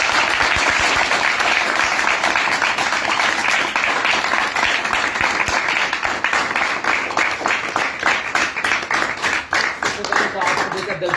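An audience at a direct-selling motivational event claps vigorously to welcome a mentor, close and continuous, with the clapping growing sharper and more distinct toward the end while voices speak over it.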